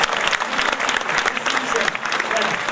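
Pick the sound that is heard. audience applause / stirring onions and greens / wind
audience applause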